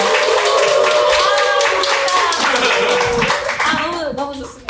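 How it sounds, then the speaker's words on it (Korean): A church congregation at a dawn worship service claps in encouragement, a thick, steady burst of applause with voices and a sustained tone running underneath, easing off near the end. "격려의 박수."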